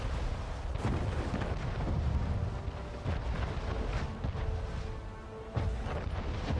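Explosion of a ship being destroyed in the Anno 1800 strategy game, a dense, rumbling blast with scattered cracking bursts that stays loud and continuous throughout, with no talk over it.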